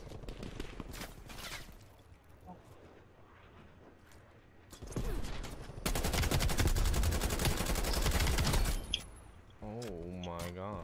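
A Krig 6 assault rifle fires in Black Ops Cold War: scattered shots, then a loud, sustained rapid-fire burst lasting about three seconds, alongside other battle effects.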